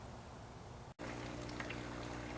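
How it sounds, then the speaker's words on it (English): A small pump circulates water inside a bucket of worm tea, giving a steady, faint bubbling wash with a brief dropout partway through. "The pump is situated on the lid and is circulating water inside the bucket quite nicely."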